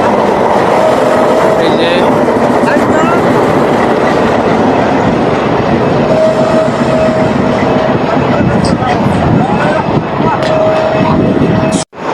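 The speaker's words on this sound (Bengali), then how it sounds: "আমাদের সামনে দিয়ে এখন যাচ্ছে একটা ট্রেন" A long train rolls past close by at Tongi railway station, a loud continuous rumble and clatter of wagons on the rails that holds for the whole stretch before cutting off, with people talking faintly underneath.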